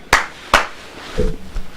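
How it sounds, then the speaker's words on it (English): A wrestler clapping his hands in a studio: two sharp, loud claps about half a second apart, followed by faint talk and room noise. "He's clapping."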